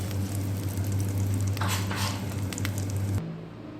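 Scrambled eggs are being stirred into rice in a hot pan for egg fried rice, giving a steady close sizzle with scraping and patter from the spatula before it cuts off abruptly near the end.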